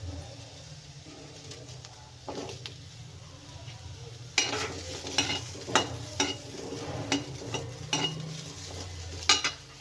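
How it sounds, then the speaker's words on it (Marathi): Onions fry in a pan under a soft, steady sizzle. A spatula stirs them with sharp scraping knocks, sparse at first and then a quicker run of clatters, while low cooing drifts in the background. "कांदे पण आपल्याला छान भाजून घ्यायचे आहेत"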